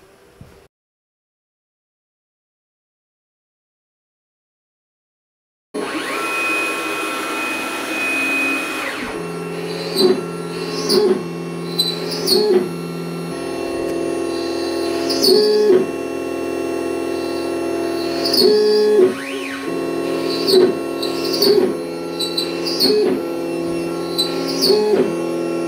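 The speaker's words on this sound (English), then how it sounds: "So from here I can start my carving operation." A CNC machine spindle carving a Precision Bass guitar body starts after several seconds of silence, then runs as a loud steady high whine with recurring shifts in pitch and cutting bursts as the bit moves through the wood.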